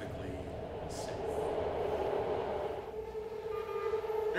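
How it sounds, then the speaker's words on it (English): A Pittsburgh–Antioch commuter train rumbles steadily with a continuous rolling roar and some higher squeal. A voice makes a station announcement over the running train. "This is a Pittsburgh Antioch train."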